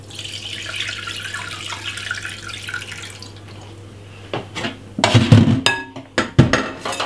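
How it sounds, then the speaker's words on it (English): Freshly made ginger water with lemon and black pepper is poured through a strainer, a thin trickle growing into splashing and clinks of the container near the end, close by and without talk. "I'm gonna just simply run it through my strainer"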